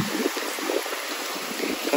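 Water trickling steadily onto garden soil in a vegetable bed, a soft continuous pour with close, gentle splashing and no voices.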